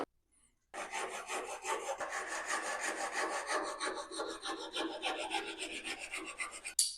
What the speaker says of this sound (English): I'm gonna cut this off with my little hand saw.